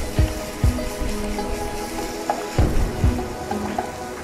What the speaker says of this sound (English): I'm going to turn up the heat a little bit so that I can fry this paneer.